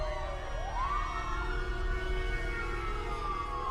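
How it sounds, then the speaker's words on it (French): A siren wails steadily, its pitch rising and then holding, sounding somewhat distant over a low background rumble. "les sirènes de police se font entendre au loin"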